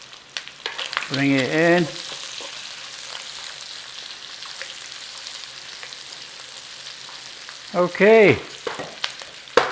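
Garlic sizzles steadily in bacon fat in a one-pan cabbage and bacon fry, a constant close frying hiss with occasional stirring scrapes, under two short bursts of someone talking.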